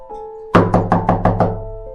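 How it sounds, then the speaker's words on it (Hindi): Six hard, evenly spaced knocks pound on a door in quick succession, loud and close, each blow ringing out briefly before the next, over a faint sustained tone. "गुस्से में दरवाजा खटखटा रही थी"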